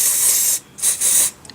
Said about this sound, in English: give it a good old spray